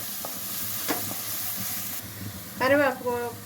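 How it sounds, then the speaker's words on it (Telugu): Ginger garlic paste frying in hot oil in a pan while preparing a fish egg fry, a steady sizzle with a few stirring knocks and a brief chirping sound near the end. "ఇది కూడా పచ్చివాసన పోయే వరకు ఫ్రై చేసుకోవాలి."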